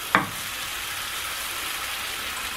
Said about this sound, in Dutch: En dan ga je ze gewoon lekker bakken.